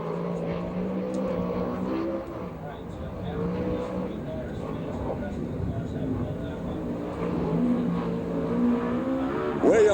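A USAC/CRA sprint car on a qualifying lap at Phoenix drones steadily with its engine pitch shifting, partly distant, while an announcer talks over it throughout.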